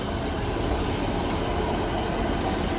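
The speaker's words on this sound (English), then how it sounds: "Here comes the train." A Great Western Railway train arrives on the line to St Ives, a loud continuous rumble and roar of wheels on track close by, with no talking.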